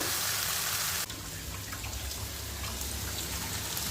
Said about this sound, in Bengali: এই মশলার বাটিতে যে জলটা ছিল ওটা এখন দিয়ে দিচ্ছি